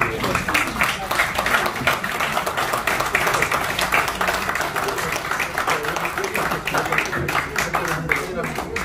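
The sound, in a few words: applause during a book presentation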